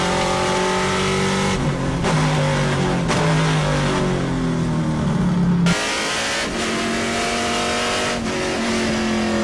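TA2 race cars at Road America roar loudly through a turn, engines revving and shifting with rising and falling pitch, one car after another in a steady, close, continuous din.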